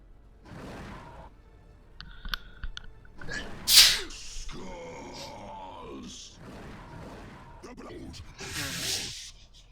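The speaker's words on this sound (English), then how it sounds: "Sorry about that, I had to sneeze." A single sharp sneeze bursts out in the middle, surrounded by breathy grunts and murmured talk before and after.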